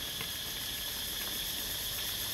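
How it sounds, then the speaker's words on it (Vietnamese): Summer cicadas drone in a countryside garden, a steady, loud, high-pitched buzz that fills the air without a break. "Âm thanh ồn ào các bạn đang nghe đó là âm thanh của ve sầu mùa hè đấy."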